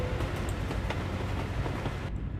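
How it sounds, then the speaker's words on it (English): A train rolls past in Euro Truck Simulator 2, a steady loud rumble with faint clicking wheel beats filling the whole moment before cutting off abruptly. "we have another train"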